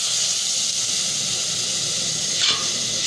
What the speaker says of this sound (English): First we have to boil it.